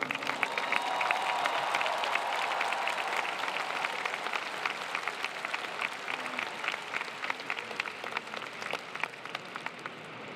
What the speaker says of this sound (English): let's give your families, professors, cheerleaders, champions, and mentors a rousing round of applause